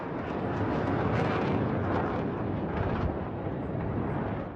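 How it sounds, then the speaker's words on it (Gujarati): Warplanes roar in a dense, continuous rumble that holds steady and loud throughout, with no break or voice over it. "ગરજતા યુદ્ધ વિમાનો"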